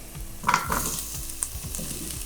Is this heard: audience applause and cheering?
no